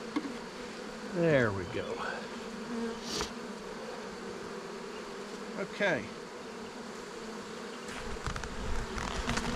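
Bees from a honeybee swarm in May buzz softly around a box, with a few louder passes as individual bees fly close by, under a faint voice speaking briefly.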